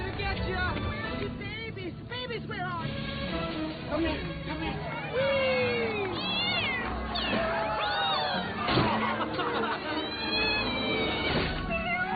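Several cats meow repeatedly, with some drawn-out wails, inside an apartment during a rescue. The calls overlap and continue throughout, set against background commotion and crowd noise.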